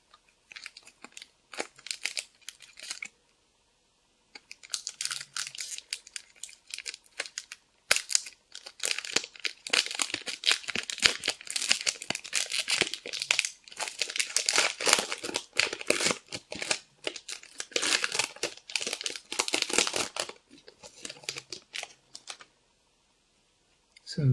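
Magic: The Gathering Kaladesh booster pack wrapper crinkling close up in dense, continuous bursts of crackling with two short pauses, loud and crisp throughout.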